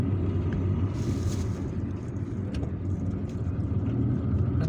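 A car drives east along a road in Algeria toward Ain Benian, a steady loud engine-and-tyre rumble heard from inside the vehicle, continuous and unbroken, with no talking.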